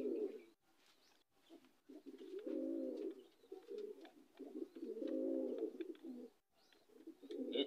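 Racing pigeons, a male and female pair, coo in repeated low, throaty bursts close by, with soft chirps between the calls against a quiet background.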